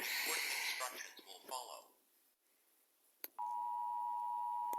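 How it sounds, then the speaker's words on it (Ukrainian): Breathy, gasping voice sounds fade to near silence, then a click and a steady electronic tone sounds continuously, like a sustained nuclear alarm beep in a Roblox video game. "нам прийшло повідомлення, що йде ядерна тривога"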